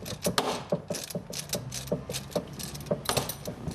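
A hand ratchet tightening the lower shift rod bolt while installing a Hurst shifter on a Dodge Challenger, rapid close clicking in quick bursts of strokes, fairly loud and alone.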